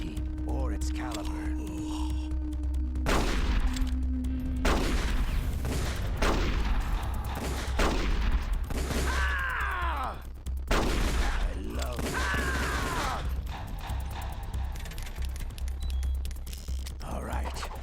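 Gunfire and mechanical game noise from Metal Gear Solid: The Twin Snakes on GameCube, with sharp repeated shots cutting through a steady low hum and music. Voices talk over parts of it.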